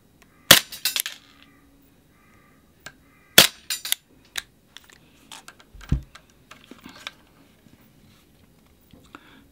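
Silver Western Arms Colt Delta Elite gas blowback airsoft pistol firing indoors: two sharp, loud cracks about three seconds apart, each trailed by clacky slide rattle, then quieter handling clicks and taps.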